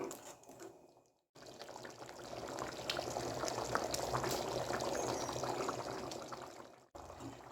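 Thick black chickpea masala simmering in a pan, a steady close bubbling and sputtering hiss that breaks off briefly twice, with no talking over it.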